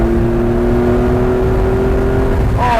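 Ferrari Boxer flat-twelve sports car from about 35 years ago, heard from inside as it accelerates on an American road: a steady loud engine drone with a rising tone at the end, no talking.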